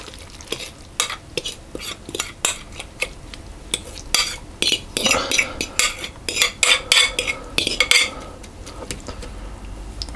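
Apple pie bar filling being spooned and scraped into a baking pan: a series of clinking, scraping metal-on-pan strokes, some sharp and close, with brief wet stirring sounds between, no talking.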